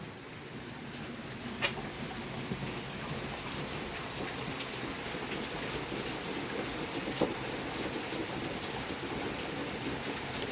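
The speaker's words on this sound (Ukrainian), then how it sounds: "Дощ, капець який." Heavy rain pours down outdoors in a constant, dense hiss, with a couple of louder drops or spatters standing out. No voices are heard.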